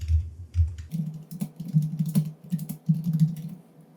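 Keys on a computer keyboard clatter while a prompt is typed into Microsoft Copilot, a quick, fairly close run of soft clicks with brief pauses and no talking.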